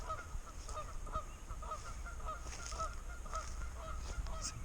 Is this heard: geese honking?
yes